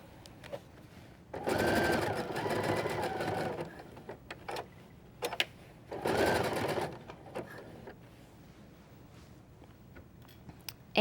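A sewing machine runs at fast speed, zigzag stitching a ruffle onto a little girl's party dress, in two loud sustained bursts separated by quiet pauses and a few small clicks.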